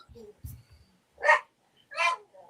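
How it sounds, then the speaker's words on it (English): Dogs bark excitedly somewhere off at a distance, giving two clear sharp bursts with faint yelps between them. Low sounds and voices come in and out around the barking. "it sounds like dogs going nuts"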